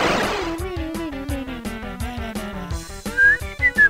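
A wavering whistle from the video game Ultimate Doom runs continuously, gliding slowly downward over a rapid, regular pulsing beat, ending in a few brighter high whistle notes.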